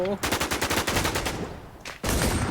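Rapid automatic gunfire in a shooting video game, a fast, regular string of loud shots that trails off, then a short pause and a fresh dense burst.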